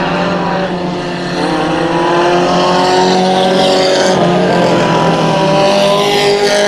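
Race cars, including the number 86 machine driven by Myers, roar through a heat race at Bakersfield Speedway, a loud, sustained, overlapping engine drone that holds steady for the whole stretch.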